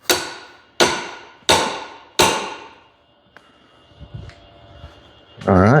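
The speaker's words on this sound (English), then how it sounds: "Have to hammer it out again until that gland starts to move outwards." Four loud, sharp metallic hammer blows at a steady pace driving out a log splitter's hydraulic cylinder gland, each ringing briefly, followed by a few quieter taps and a short burst of noise.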